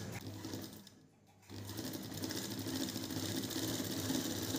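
Sewing machine stitching a blouse in a tailoring class: a continuous fast mechanical whirr with a brief pause near the start before it resumes running steadily, close and fairly loud.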